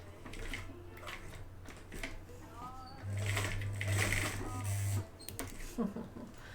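A sewing machine stitches pieces of fabric in a steady whirring run, loudest in a burst of about two seconds midway, with quieter mechanical ticks and a voice talking around it.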